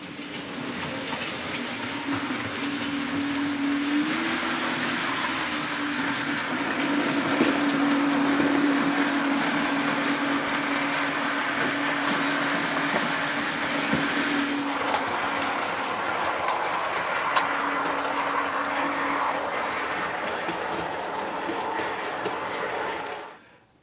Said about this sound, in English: you've seen it run around the layout a little bit